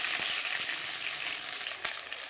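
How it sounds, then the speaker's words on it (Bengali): Pieces of pointed gourd sizzle steadily in hot oil in a pan, turned to brown the other side; a dense, continuous frying hiss with a few soft clicks, close and fairly loud, with no talking. "এবার আর এক সাইড ভালো করে ভেজে নেবো"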